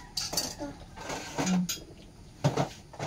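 Ceramic plates clink and a metal spoon rattles as dishes are set out in a home kitchen, a handful of close, sharp knocks and scrapes at irregular intervals.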